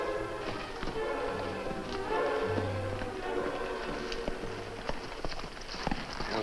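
Horses carrying two riders through the night under a drought-stricken land, a rhythmic clip-clop of hooves running beneath a radio-drama music bed, moderately near.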